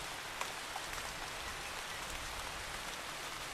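Rain falls steadily in a rural backwoods town, an even, close hiss of drops with no other sounds standing out.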